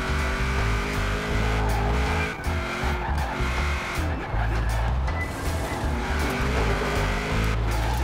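A Buick Regal engine pulls hard uphill on a race circuit, a steady loud drone with rising and falling revs and gear changes, tyres squealing at times, with no talk over it.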